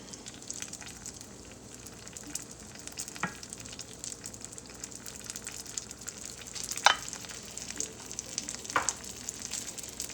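Caramelized onions frying in a pan for a patty melt, a steady soft sizzle with faint crackles and a few brief pops, no voices.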